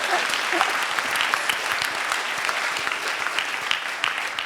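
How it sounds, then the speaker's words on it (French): Dense, sustained applause from a festival audience at a panel discussion on women in public life, filling the whole stretch evenly with a few faint voices mixed in. "Oui, vraiment, applaudissez-vous"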